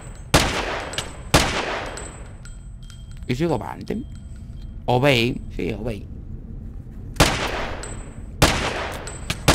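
Sharp gunshots ring out in a Metal Gear-style custom video game map, four loud reports with echoing tails spread across the stretch, while someone talks between them.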